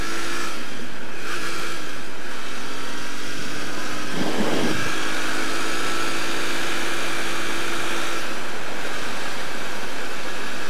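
A Royal Enfield Interceptor twin motorcycle accelerates along a UK road. A rising engine note sits under heavy, loud wind roar and buffeting, with a short gusty burst partway through and no talk.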